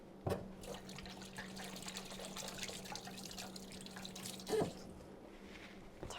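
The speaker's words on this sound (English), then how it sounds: "let me rinse my hands off real quick" Tap water runs steadily at close range while hands are rinsed under it at a kitchen sink, with a couple of sharper splashes or knocks breaking the flow.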